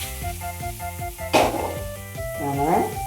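Hot oil tempering with dried red chillies is poured and bursts into a sudden loud sizzle midway, then crackles more quietly, over a steady tonal background with voices.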